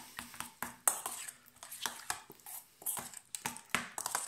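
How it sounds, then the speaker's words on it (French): Salmon for an avocado tartare is mixed in a bowl, a quiet run of irregular clinks and scrapes of a utensil against the bowl, close and faint, with no talk. "je mélange un petit peu"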